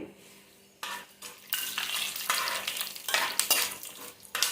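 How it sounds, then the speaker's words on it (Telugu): Mustard seeds splutter in hot oil with chana dal, urad dal and cashews, tempering for a banana flower curry. Sharp bursts of crackling sizzle start and stop abruptly, close and fairly loud, with no voices. "ఆవాలు చిటపటమంటున్నాయి."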